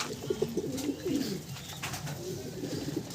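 Madrasi pigeons from Andhra coo nearby in low, throaty rolling bursts, a few overlapping calls rising and falling, with faint chirps in the background.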